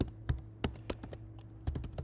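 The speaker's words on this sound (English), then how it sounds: "and then keep typing." Fingers tap out an irregular run of soft, close clicks on a computer keyboard, with quick bursts and short pauses against a quiet room hum.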